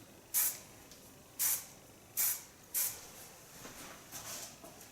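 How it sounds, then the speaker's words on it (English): Hair spray from a can hisses onto a man's hair in four short, sharp bursts, followed by a few softer, fainter puffs, with no talking. "And with the same spray, I flatten out the outstaking hairs."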